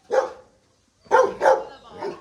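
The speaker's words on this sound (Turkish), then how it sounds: "Az daha yavru köpecikler." Several high-pitched puppy barks nearby at an animal shelter, one yip followed by a pause and then three quick barks in a row.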